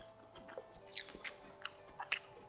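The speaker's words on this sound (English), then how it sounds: "It's hard when you're eating a cob of corn." Corn on the cob is chewed right at the microphone, with several wet, crunchy bites and smacks spaced irregularly over a quiet background.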